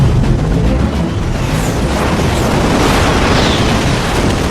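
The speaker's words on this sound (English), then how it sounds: "30mm cannon tracers rip through the sky" Rapid 30mm cannon fire and explosions in an aerial dogfight between Sukhoi and Mirage jets, a loud dense roar of bursts and booms that holds steady with no clear gaps between shots.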